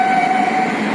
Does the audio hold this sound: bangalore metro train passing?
yes